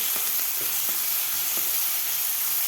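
A paste of green chilli, garlic, ginger and cumin sizzles steadily in a hot pan while being sautéed, with a constant loud hiss and faint scraping stirs throughout.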